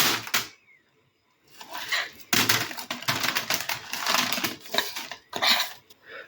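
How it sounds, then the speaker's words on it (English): Flapjack mix being scooped and pressed into a parchment-lined baking tray, giving a run of scraping, clattering kitchen-utensil knocks and rustles, close and fairly loud, with a short quiet gap near the start. "grab yourself a baking tray, line it with parchment, and scoop your mix into it."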